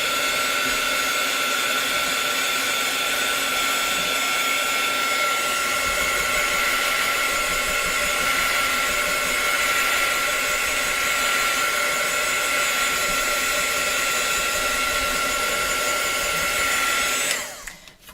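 A hair dryer blows steadily on a painted craft piece, a loud constant whir with a high whine that runs unbroken for most of the time before cutting off abruptly at the end.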